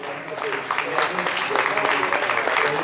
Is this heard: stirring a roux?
no